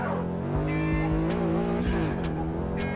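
In the Street Racing Syndicate video game, a racing car engine roars steadily while the car flees the police, with tires squealing and skidding at intervals through the drive.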